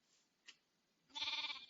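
A sheep in Hungry World, a Minecraft-style game, gives one short, close, wavering bleat near the end, after a faint brief click.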